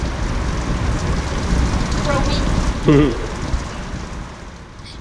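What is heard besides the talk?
rain falling on a sailboat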